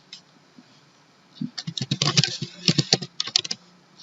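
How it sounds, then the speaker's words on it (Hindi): Typing on a computer keyboard in a spreadsheet program, a burst of quick close key clicks in two flurries with a short pause, ending with a press of the Enter key. "यहाँ पे ये देखिए हमने कंप्यूटर टाइप किया है, एंटर प्रेस किया है"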